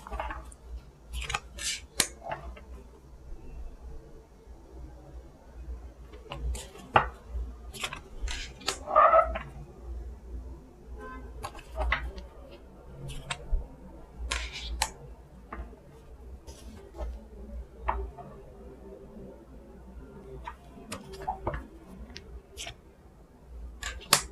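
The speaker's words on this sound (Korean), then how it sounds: "여러분께 필요한 타로 카드 뽑아볼게요" Tarot cards shuffled, spread and drawn during a weekly fortune reading, giving many short, close papery snaps and slides scattered irregularly over a low steady room hum, with a brief high squeak partway through.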